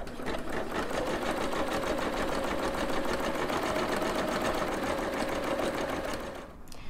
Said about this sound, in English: So I'll click OK, and now I can keep embroidering my second thread color.